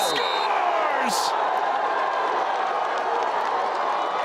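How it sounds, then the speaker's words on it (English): At a North Carolina vs Richmond college lacrosse game, the Richmond crowd roars after a goal, a loud sustained wash of cheering and clapping with a whistle-like shriek early on. "gives the crowd a little something to get excited for, the Richmond contingent"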